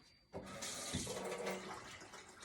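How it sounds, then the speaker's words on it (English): Cold water pours into flour for scallion pancake dough, a sudden close gush that starts after a short quiet moment and runs steadily for about two seconds, with no talk. "And then I shoot it with some cold water."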